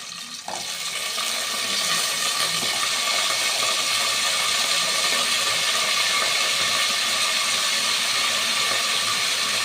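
Brinjal sautéing in a hot pan for a garlic gravy gives a steady, broadband sizzle and hiss that holds at an even level throughout, close by, with no talking.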